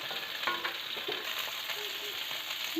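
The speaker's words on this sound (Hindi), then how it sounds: "गोभी के हम सब तनिका भूज लेबे मध्यम आंच पर" Cauliflower fries over medium heat in a pan, giving a soft, continuous sizzle with occasional light scrapes of stirring, fairly quiet and without talk.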